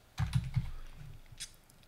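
Several quick keystrokes tap on a computer keyboard while a search is typed, soft and close, ending with one lighter click.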